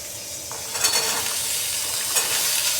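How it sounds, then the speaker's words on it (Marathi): Peas and potatoes sauté in hot oil with bay leaf, cloves, pepper, cinnamon and tomato, giving a constant close sizzle broken by occasional light scrapes of stirring, with no voices. "तेलामध्ये परतून घेऊया."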